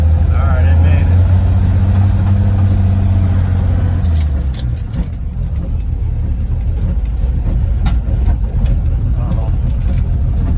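A 1950s Chevy car with a 216 engine climbs a snowy hill, its engine rumbling loudly up close at first, then fading into rougher, noisier driving with clunks as a voice talks over it.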